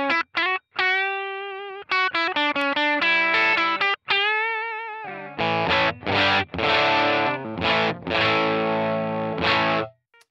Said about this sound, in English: Let's actually try out the new Glorious drive and see if this does anything for us.